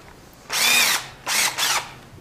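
A power drill fitted with a Malco cutter slices through pole barn steel in three loud, harsh bursts, one longer and two shorter, with quiet pauses between.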